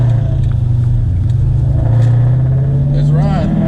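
A Ford Mustang GT on drag radials pulling away on a rainy road, its engine a loud, close drone climbing steadily in pitch, with a brief voice near the end.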